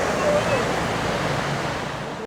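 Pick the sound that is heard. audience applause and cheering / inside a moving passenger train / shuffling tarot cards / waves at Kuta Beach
waves at Kuta Beach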